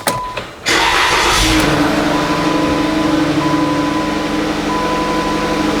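A Chrysler 200 engine starts after a battery replacement: a brief starter crank, then the engine catches and settles into a steady, close idle hum for several seconds with no talking.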